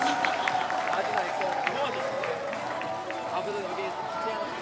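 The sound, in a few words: audience applause at talk concert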